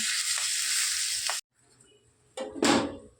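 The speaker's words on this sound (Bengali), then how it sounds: "তেলের ওপর টমেটো শুকনো লঙ্কা ফড়ন জিরে ফড়ন কাঁচা লঙ্কা দিয়ে একটু বেজে নিই" Tomato, dried red chili, cumin seeds and green chili sizzle and fry in hot oil, a loud steady crackle that cuts out briefly, then returns with a stirring burst.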